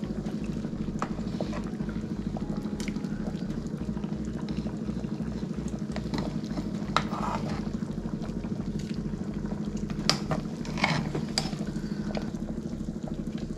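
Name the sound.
liquid boiling in a cooking pot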